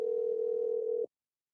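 One steady electronic phone tone sounds on an outgoing call, a single flat hum lasting about a second before stopping cleanly into silence.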